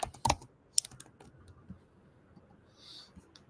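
Typing on a computer keyboard while creating a text file, a few sharp isolated keystrokes at the start followed by sparse, faint taps over a low background hum.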